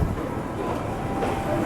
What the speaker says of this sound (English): Another impressive railway station at Miyazaki.